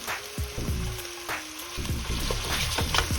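Spices sautéing in a pan for homemade tomato sauce, a steady soft sizzle with light stirring clatter and a few taps, close and moderately loud, with no talk.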